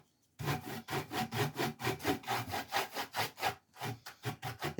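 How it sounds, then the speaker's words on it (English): A wax-loaded brush strokes across the wooden surface of an upcycled desk drawer with steady, rhythmic rubbing, each pass close and fairly loud, roughly a dozen strokes in a continuous back-and-forth pattern. "Let me get a little more wax, load and offload the brush."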